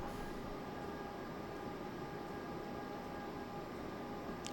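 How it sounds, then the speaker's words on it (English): An electric train in Train Simulator 2021 on the London to Brighton line, a steady rumbling roar with faint high whine tones, continuous and even, without voices. "Actually doesn't sound too bad for an electrified train"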